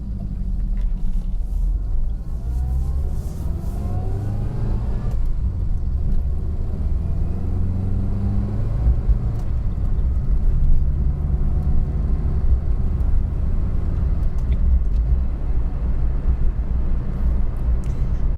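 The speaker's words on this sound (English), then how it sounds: "Now listen out for that gearbox whine, it's one of my favourite things." An 80s MK1 Austin Metro driving along, its engine rumbling steadily with a rising and falling gearbox whine from inside the cabin.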